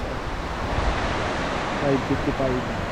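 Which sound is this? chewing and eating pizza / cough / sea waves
sea waves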